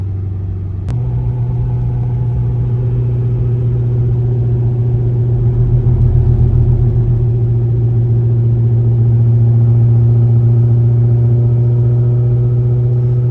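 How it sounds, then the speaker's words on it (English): A Corvette C6 Z06 with a new AWE Touring exhaust drones steadily at about 1800 RPM going uphill, a constant deep hum held for several seconds with only slight swelling in loudness, no talking. "Going uphill at like 1800 RPM. If it's gonna drone, that's gonna be the worst of it."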